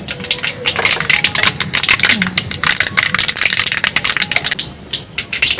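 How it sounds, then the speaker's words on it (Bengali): Mustard seeds hit hot oil in a pan while lemon pickle is prepared, setting off a close, loud stream of rapid, irregular pops and crackles that runs throughout. "একটু সর্ষে তো তেলে দিলে একটু শব্দ হবে"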